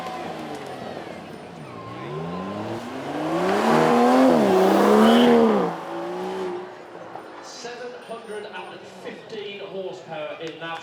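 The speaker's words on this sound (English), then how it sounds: "Here we are then, Aston Martin DBS. .2 litre V12 now with 2 turbos as well." An Aston Martin DBS with a 5.2-litre twin-turbo V12 runs on a track at a supercar weekend. Its engine rises and falls in pitch and swells to a loud mid-clip roar before fading, with voices talking over it.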